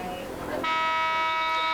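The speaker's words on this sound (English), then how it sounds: "And there's the buzzer for the end of the first half." A buzzer sounds to end the first half of a varsity field hockey game, a sustained steady electronic tone that cuts in sharply and holds, following a moment of play commentary.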